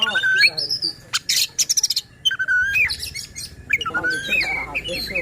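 Oriental magpie-robin (kacer) singing close by, a varied run of bright whistles, rapid trilled chirps and sharp rising notes in quick, lively phrases, with faint background noise beneath.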